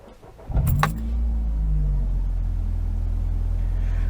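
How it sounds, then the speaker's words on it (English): A Ford Puma 1.7 with a stainless steel exhaust cranks briefly, fires up with a sharp catch, then settles into a deep, steady idle rumble heard close by. "Start the engine up."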